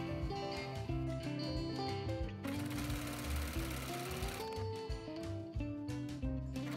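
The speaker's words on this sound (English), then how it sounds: "serging the underlining and the skirt fabric together, and then joining all the seams, including the gathered folds" A serger stitching underlining and silk skirt fabric together, its fast mechanical chatter running continuously and fairly close, with music playing over it.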